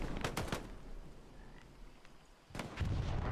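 Heavy artillery fire in the World War II shooter Hell Let Loose: a cluster of loud booming blasts at the start, a quieter rumbling stretch, then another strong roaring burst near the end.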